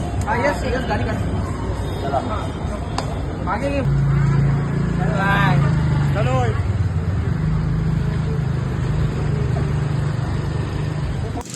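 Auto rickshaw ride through Mumbai traffic: a steady, loud engine drone runs throughout, with horns and street noise around it and people talking over the ride.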